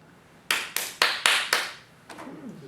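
Five sharp, loud hand claps in steady rhythm announcing arrival at a gate, each followed by a short echo, then a couple of softer taps fading out.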